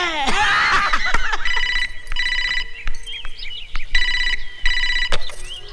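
A telephone rings in a home scene, a bright electronic bell repeating in regular bursts after some laughter, with background voices between rings.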